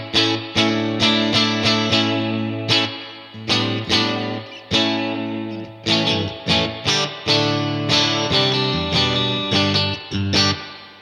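An electric guitar through a Headrush MX5 reverb effect plays chords and picked notes with a washy reverb tail ringing between strums, loud and close, no voices.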